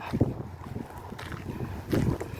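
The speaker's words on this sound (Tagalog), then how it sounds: "Malakas ang hangin." Gusty wind on a farm buffets the microphone in uneven rumbling bursts, strongest near the start and again toward the end.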